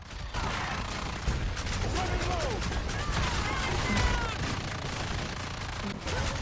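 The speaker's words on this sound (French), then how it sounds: "Ah mais là je lui fais des trous au fusil à pompe là." Pump shotgun fire and heavy combat in the multiplayer monster-hunting video game Evolve, dense overlapping gunfire and crashes over a continuous loud din, with faint game voices and squealing effects.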